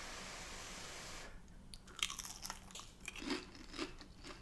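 Crispy homemade air-fryer chips crunch as they are bitten and chewed up close, a few sharp crunches followed by softer mastication, quiet and with no talking.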